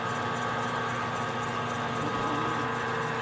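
Lathe turning the cylinder base of a Stihl MS 201TC chainsaw, a steady mechanical hum and motor whine running evenly and continuously at moderate level, with no talk.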